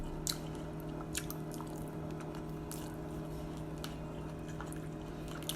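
Someone eating paksiw na bangus, fatty milkfish stewed in vinegar, with soft wet chewing and small bites close up over a steady low hum, no talk.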